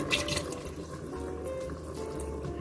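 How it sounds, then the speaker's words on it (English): Water pours from a vessel into an Instant Pot while cooking white chicken chili, a steady splashing, trickling stream, close and continuous for a few seconds with no talk. "now we're going to add in some water"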